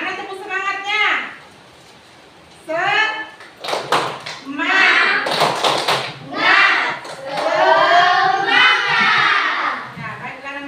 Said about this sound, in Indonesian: Mana tepuk semangatnya?